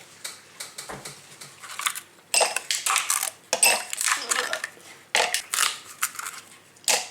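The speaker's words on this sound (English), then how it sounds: "Love these ice cube trays with the rubber bottoms." Ice cubes are released from a silicone ice cube tray, giving bursts of close, crisp cracking and clattering as the cubes pop free and knock together, with a quiet pause between bursts.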